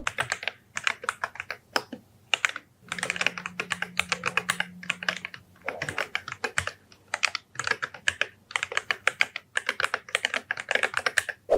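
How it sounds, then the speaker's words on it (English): Close, rapid typing on a mechanical keyboard, with crisp clacky keystrokes coming in quick bursts separated by brief pauses. "this keyboard sounds awesome"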